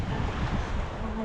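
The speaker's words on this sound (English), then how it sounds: "we look over to the right, nothing but ocean out there" Ocean surf at South Beach, Miami rolls as a steady broadband wash close by, with wind buffeting the microphone and a faint tonal hum near the end.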